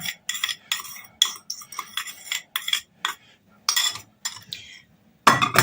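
A spoon stirs cottage cheese mixed with vinegar-slaked soda in a bowl, scraping and clinking in a brisk, uneven rhythm of about a dozen close strokes with short pauses between them.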